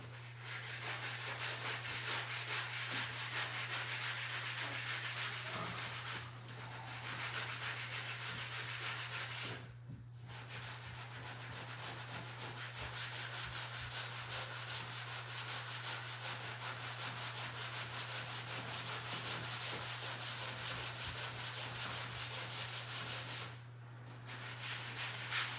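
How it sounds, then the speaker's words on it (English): Drywall mud being hand sanded on a wall, a continuous close scratchy rubbing with a steady background hum, broken by brief pauses around six, ten and twenty-four seconds. "right now I'm just trying to sand it down lower."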